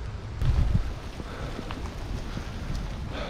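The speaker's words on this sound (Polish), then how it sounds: "A do tego wiatr." Steady broadband wind noise rushing across the microphone outdoors in the Netherlands during a rainy metal-detecting dig, with a stronger gust early on and a constant low rumble throughout.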